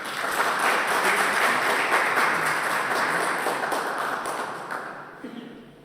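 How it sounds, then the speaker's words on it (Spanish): Sustained audience applause in a hall after a talk at a civic forum on open justice in Concepción, Chile, a steady dense patter of many hands that fades out near the end. "Un aplauso para don Peter."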